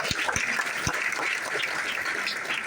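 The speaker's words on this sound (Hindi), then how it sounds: "एक बार जोरदार ताली होनी चाहिए" A seated audience at a training gathering bursts into energetic, dense clapping, with a few louder low thumps early on, continuing steadily for a couple of seconds without speech.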